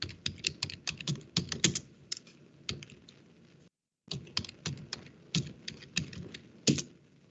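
A command is typed on a computer keyboard during a Linux DNS class, crisp close keystrokes in rapid irregular runs broken by a short silent gap, with no talk.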